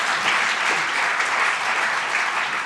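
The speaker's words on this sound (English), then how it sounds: "can you all please join in giving me a round of applause for our amazing panel speakers" Conference audience at King's College London applauding panel speakers, a steady, dense clapping from a full room that holds at even loudness throughout, with no talk over it.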